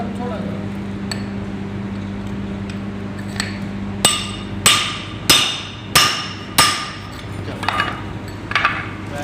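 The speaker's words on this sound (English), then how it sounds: "So with this holly hammer we are going to fix the bearing in" A hammer drives a bearing into a fan motor during an overhaul, tapping a pipe placed against it: five loud, ringing metallic blows land about once every half second, with lighter taps before and after.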